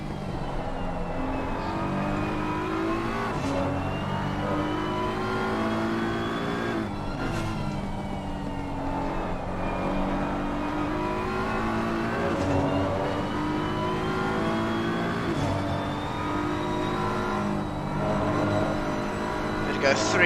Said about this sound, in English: But Kieran Fidigo there, we'll go on board with him for the final few corners here at Watkins Glen.